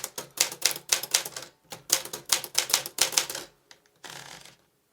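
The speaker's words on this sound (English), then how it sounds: "Now I will be typing on a thin paper, around 60 GSM" A typewriter types on thin 60 GSM paper with no backing sheet, a rapid run of crisp, close keystrikes in quick bursts separated by short pauses, ending with a brief ratcheting carriage sound.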